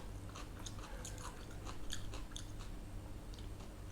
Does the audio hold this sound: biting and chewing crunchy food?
yes